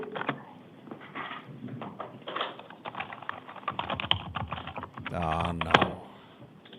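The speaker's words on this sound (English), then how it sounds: "We got a typer here." Rapid typing clatters on a computer keyboard in a courtroom, irregular bursts of close key taps, while a voice speaks briefly over them near the end.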